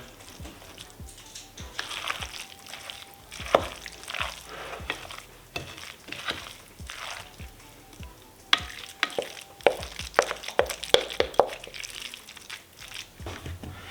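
Polish vegetable salad being stirred together with table mustard, a run of close, repeated wet scraping and squelching strokes at a steady mixing rhythm, with no voices.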